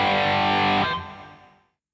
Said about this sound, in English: change it to what I would consider to be one of the best overdrive or distortion pedals ever, which is the Marshall Governor